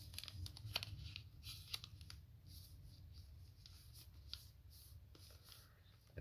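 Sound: folding a sheet of origami paper

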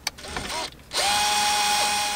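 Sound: power drill with 9/32 inch socket removing truck radio screws

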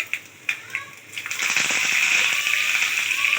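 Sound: tempering spices frying in oil for pachipulusu

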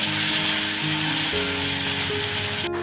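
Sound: chillies, cinnamon and cashews frying in oil

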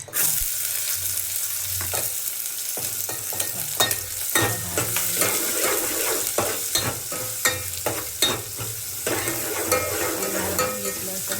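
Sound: onions frying in oil

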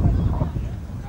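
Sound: wind at outdoor football ground

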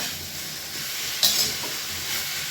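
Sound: sautéing tofu and patola in a pan

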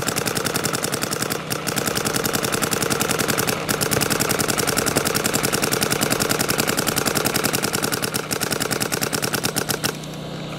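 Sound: Vanquish GT paintball marker firing

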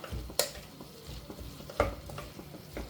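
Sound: stirring chicken curry ingredients in pressure cooker

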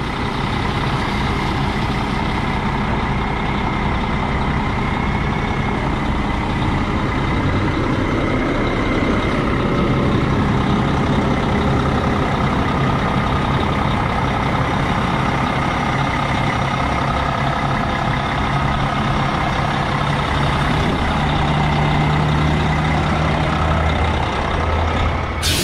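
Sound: 2020 Newell P50 luxury RV maneuvering, reversing beeps

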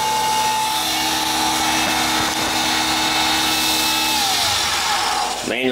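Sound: CNC spindle running during Mach3 manual tool change

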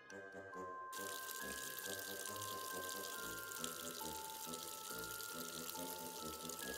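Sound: faucet running water in a video game

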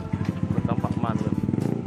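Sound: Vespa scooter engine running on a dyno

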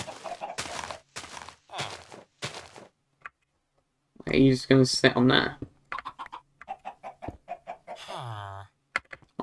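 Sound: chicken clucking in video game Minecraft

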